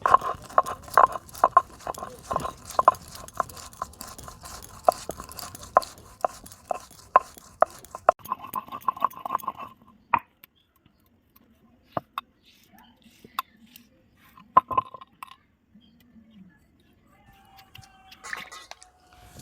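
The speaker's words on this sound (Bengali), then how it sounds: "এবার আমি আদা আর জিরেটা বেটে নেব একটু।" Ginger and cumin ground on a stone slab for a spinach-filled puri, a quick run of rhythmic scraping and knocking strokes for about ten seconds, then sparse, scattered taps and pauses.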